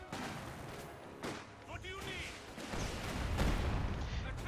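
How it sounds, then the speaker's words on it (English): Artillery booms from a Company of Heroes 2 match, including a light field howitzer, with several heavy blasts and rumbling impacts that swell toward the end, heard under a commentator's voice. "A bit more artillery there."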